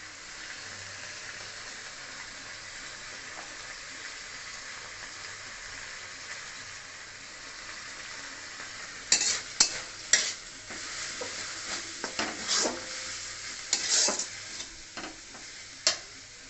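Spices fry with a steady low sizzle in a pan for a soybean curry, joined partway through by sharper scraping and clinking as they are stirred, close and fairly quiet.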